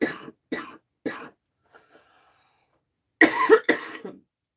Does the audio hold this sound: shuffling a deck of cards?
no